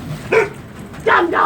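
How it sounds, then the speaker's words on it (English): Two short barks from a dog in snowy weather, a brief yip near the start and a louder, fuller bark about a second later, fairly close with no one talking. "Dumb dog."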